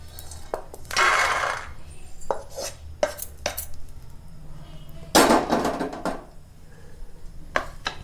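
Roasted peanuts are scooped out of a hot pan into a separate bowl, for a green chilli and tamarind chutney, with close spoon scrapes, rattling nuts and irregular metallic knocks, and no talking.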